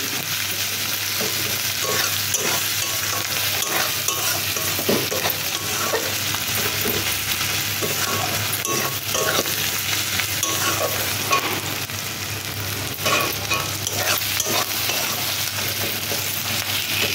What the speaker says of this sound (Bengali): আর এখানে আমার আদা রসুন পেঁয়াজ ভাজা ভাজা হয়ে